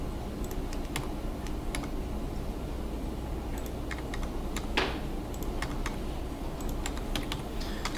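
Computer keyboard keys pressed during CAD or layout work, sharp scattered clicks at an irregular pace over a steady low hum, fairly quiet and close, with no talking.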